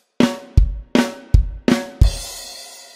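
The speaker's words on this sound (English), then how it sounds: "So you get a hi-hat, a flam on the snare, bass drum, flam on the snare, bass drum, and then flam the snare." A drum fill on a kit: a hi-hat stroke, then snare flams alternating with bass drum kicks, five or six sharp hits in an even rhythm ending on a ringing cymbal-like wash, close and loud.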